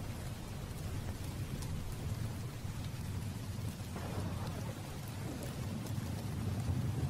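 Steady heavy rain of a night thunderstorm pours without pause, with low rolling thunder rumbling beneath it and a brief swell of distant thunder near the middle; no voices.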